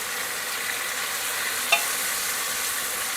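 Chopped onions, tomatoes and bay leaves fry in a pan for a beef biryani, making a steady, even sizzle up close with one brief click midway and no talking.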